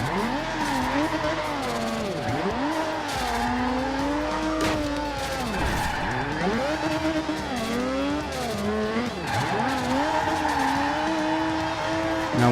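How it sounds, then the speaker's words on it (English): In the video game Forza Horizon 2, a car drifts with a steady engine roar and long, wavering tire squeals that rise and fall through the slides, loud and continuous throughout. "we're about to rip this bitch and see if we can catch a little bit of drift action"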